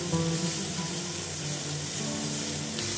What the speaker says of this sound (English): Peppers are fried off lovely now.